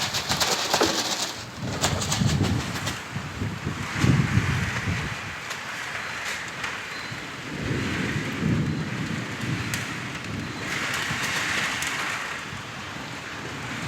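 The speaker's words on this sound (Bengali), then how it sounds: "বিকাল হইতে ঝড়" Low rumbles of thunder rolling in and out over steady rain on a rooftop garden, with pigeons cooing nearby.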